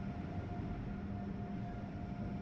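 A train rolls along in the Train Sim World 3 simulator on a Trenton to New York route, a dense continuous low rumble with a steady faint whine running through it and no pauses.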